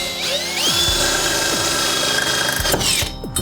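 A power drill bores through metal on a Jeep XJ Cherokee seat, its motor whining loudly with repeated speed surges and dips, ending in a short rattle.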